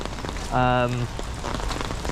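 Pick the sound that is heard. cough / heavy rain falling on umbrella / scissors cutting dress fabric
heavy rain falling on umbrella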